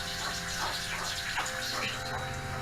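Water gushes steadily from a sailboat watermaker driven by a pressure washer pump, a constant hissing flow with a faint mechanical hum beneath.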